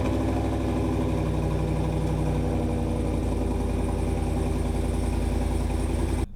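A 2020 Chevrolet Silverado 1500 Trail Boss pickup with a 6.2L V8 idling after a cold morning start, a steady deep rumbling exhaust burble throughout, close and even, with no talk.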